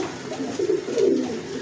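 Soft, low pigeon cooing, a couple of throaty rolling coos close by over a steady background hum.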